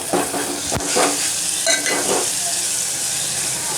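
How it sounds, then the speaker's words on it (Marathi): Chicken sukka being stirred in a pan with chilli powder, coriander powder and garam masala, a steady sizzle broken by a few sharp scrapes of the spoon against the pan. "थोडीशी धान्य पावडर थोडासा गरम मसाला आता हे आपण चांगला हलवून घेऊ"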